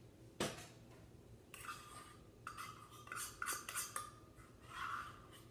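Eggs and sugar being mixed in a bowl for a pie filling, heard as a string of close clinks and scrapes of a utensil against the dish, irregular and fairly quiet, with no talking.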